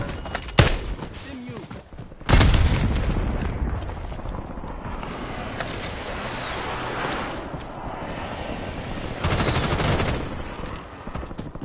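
Gunfire and a frag grenade blast in the Warzone video game, with a sharp bang early, a heavy boom followed by sustained loud rumbling and firing, and a second burst near the end, over game voice callouts.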